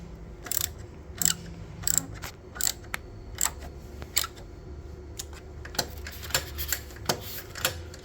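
Bolt being tightened on a heel shifter fitted to a BMW R 1300 GS motorcycle, heard as a steady run of sharp ratcheting clicks close up, roughly every half second with a few quicker bursts, over a low background hum.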